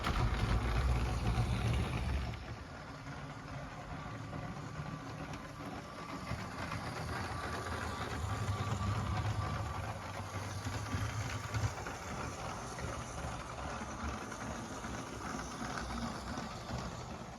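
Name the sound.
LEGO Union Pacific locomotive train running on the rails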